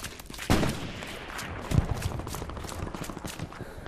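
Gunfire during a match: a couple of sharp, loud shots stand out near the start and middle, with a steady crackle of further shots and background noise running throughout.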